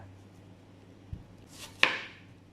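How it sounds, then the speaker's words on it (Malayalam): A knife slices an onion into thick rings on a cutting board, giving two separate crisp chops about a second apart in a quiet kitchen. "ഒനിയൻ കട്ട് ചെയ്യുന്ന സമയത്ത് തീരെ കനം കുറഞ്ഞു പോകാതെ അത്യാവശ്യം കട്ടിക്ക് തന്നെ നന്നായിട്ട് ഇതൊന്ന് കട്ട് ചെയ്തെടുക്കുക"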